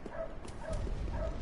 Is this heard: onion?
no